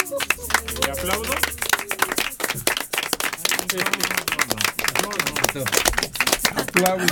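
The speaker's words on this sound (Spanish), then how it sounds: "Aplausos desanimados." Scattered, uneven clapping from a small group, loose and lacking energy, with talking and laughter mixed in throughout.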